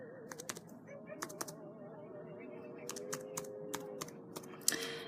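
Someone types a library card number on a computer keyboard, making a few quiet, irregular key clicks in short bursts while a voice speaks softly underneath.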